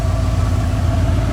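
Ford V8 in a junkyard Bullnose Ford truck with an Edelbrock AVS2 four-barrel carburetor, a steady loud low rumble close by, idling and revving under a quick throttle blip.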